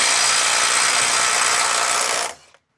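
A Makita 18V brushless right angle impact wrench set to 250 foot-pounds rattles in one loud, continuous burst of close hammering for about two seconds, then cuts off abruptly into silence.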